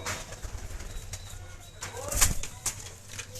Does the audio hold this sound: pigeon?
yes